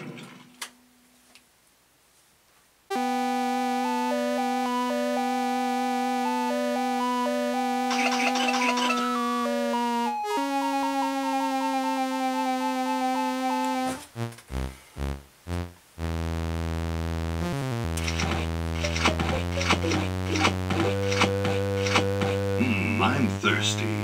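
Day of the Tentacle intro music played through SID chips, with bright chiptune square-wave melodies over steady bass tones, brief pauses and stuttering bursts, continuous and loud after a short quiet opening.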